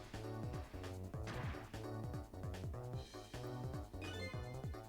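Repeated heavy whacks and crashes of a wall being pounded down in the video game Ghost Trick, rhythmic thuds layered over loud looping game music.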